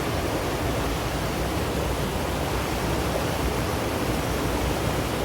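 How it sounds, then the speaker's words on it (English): A river rushes steadily into a big pool along a trail in Utah's autumn woods, a dense, even roar of flowing water close by with no voices over it. "Wow, look at this beautiful river here."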